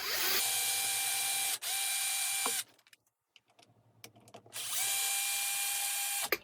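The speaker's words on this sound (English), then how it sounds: "It's obviously a Dremel, and I've had this for probably over 10 years." An old Dremel power driver whirs with a bright, steady motor whine for a couple of seconds, stops, then spins up again for another similar run, close and loud with no talking.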